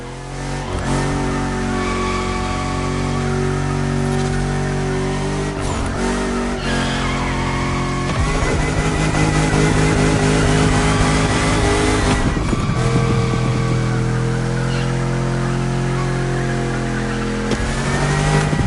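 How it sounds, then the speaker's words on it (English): Cars drifting in The Crew Motorfest, with loud continuous engine roar and revving and tires squealing through long slides, rising and falling over music and game sounds with no one talking. "That's right, keep drifting."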